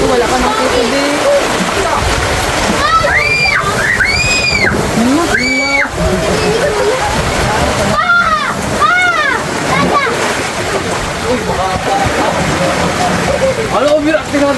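Large storm waves from Typhoon Carina surge and slosh into a house in a continuous loud wash of water, while people shout and talk over it throughout.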